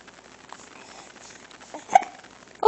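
A baby gives two short, sharp hiccups a moment apart, near and fairly soft, against a quiet room.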